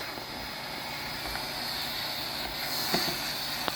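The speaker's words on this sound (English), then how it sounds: "using the backpack vacuum to vacuum all the" A backpack vacuum cleaner sucks up dust during indoor window, blinds and ceiling fan cleaning, giving a steady, even whine with a high tonal edge that continues unbroken and fairly close.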